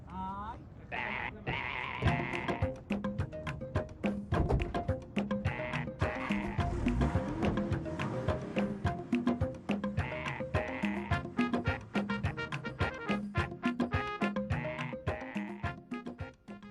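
Sheep bleat over and over in loud, wavering calls that overlap with one another, close by and continuous, and other noises are mixed in underneath.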